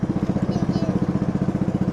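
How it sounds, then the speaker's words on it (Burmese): A motorcycle engine runs with a steady, rapid throb close by, its even pulses continuing without a break for the whole stretch. "အင်ဂျင်"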